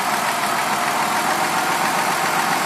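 A 2002 Ford Escape engine idling roughly, a loud, close, steady broadband rumble with an uneven underlying pulse, running alone throughout.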